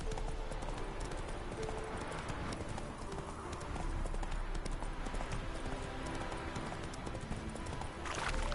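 Roach the horse gallops in The Witcher 3, her hooves beating a steady, rapid clip-clop rhythm up close throughout, with no talking.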